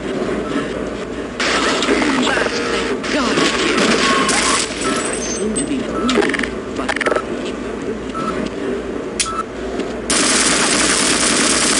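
Rapid automatic gunfire in the video game Half-Life, loud bursts of weapon fire and mechanical clatter layered over game ambience, with dense firing stretches separated by quieter gaps.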